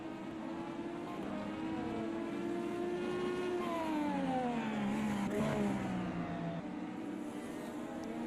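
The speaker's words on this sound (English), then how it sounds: "That car sounds like he's trying to be delicate with it." A Formula-style race car runs at Road America in a championship race, its high engine whine holding steady, then sweeping down in pitch as it passes, loud and continuous against trackside background noise.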